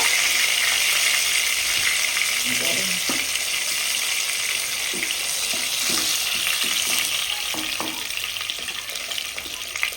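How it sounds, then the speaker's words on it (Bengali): Katla fish pieces frying in hot oil, a loud dense continuous sizzle held up close throughout, with faint occasional clinks and scrapes of a utensil underneath, no talking. "দেখুন বন্ধুরা কাতলা মাছ এই পাশটা কত সুন্দর করে ভেজে নিচ্ছি।"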